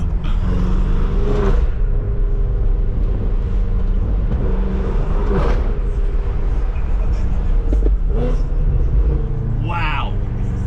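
A BMW M6 rumbles steadily while driving, a low continuous exhaust drone inside the cabin with someone talking over it.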